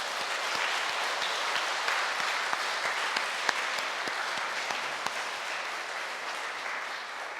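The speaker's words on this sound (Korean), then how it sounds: "감사한 마음으로 박수합니다" A church congregation at a Pentecost synod closing Mass applauds steadily, a dense wash of many hands clapping at moderate volume, sustained evenly with a few sharper individual claps standing out.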